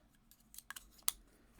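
Paper is cut with scissors, giving a few quiet, close snips, with a sharper crisp cut near the end.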